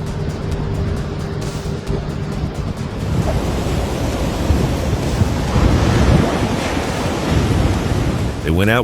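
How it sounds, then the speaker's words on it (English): Large ocean waves roll and crash near the port of Algiers in gale winds of up to 45 knots, a loud, continuous roar of surf with heavy wind buffeting the microphone. "the waves were already too big to escape"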